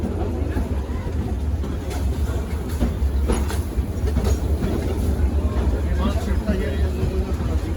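A theme park railroad train runs along its rails with a steady rumble and faint clacks over the track, close by and continuous, while a voice speaks over the top.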